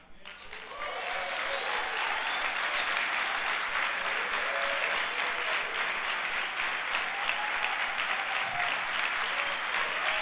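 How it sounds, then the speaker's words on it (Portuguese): A church congregation bursts into loud, sustained applause that quickly swells and holds as a dense clatter of many hands, with a few faint voices calling out within it. "Esse aplauso é para Ele."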